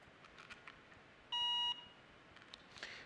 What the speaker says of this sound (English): I always turn it on and wait for the little beep.